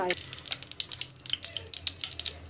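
Cooking oil heating and frying in a pan, a bright crackling sizzle full of quick irregular pops that spatter on and off, fairly near, with a low background hum beneath.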